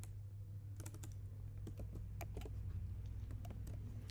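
Code being typed on a computer keyboard for a React JS to-do list project, quick irregular clusters of key clicks over a low steady hum, fairly faint.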